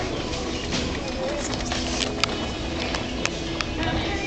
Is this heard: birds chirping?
yes